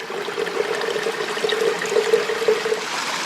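Filtered water trickles in a steady stream from a water filter beside a lake while wild camping in late autumn, a close, continuous pouring sound with a faint tonal gurgle.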